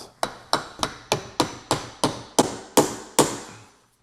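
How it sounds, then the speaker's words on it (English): A hammer strikes a metal door hinge pin in a steady series of about ten sharp taps, close and evenly spaced, each ringing briefly before the next. "Then we're gonna get our hammer and pop it back into place."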